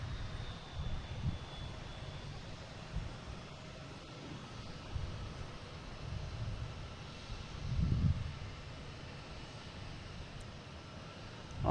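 Airbus A321 jet engines spooling up in an alley at Boston Logan International Airport: a steady, distant low roar with gusty wind noise, swelling briefly partway through.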